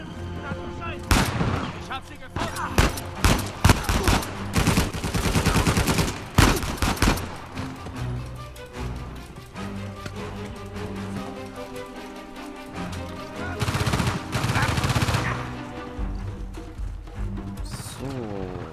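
Rapid bursts of video game gunfire in Uncharted 4: A Thief's End crack in clusters, some dense volleys and scattered single shots, with a voice talking between and under the shooting.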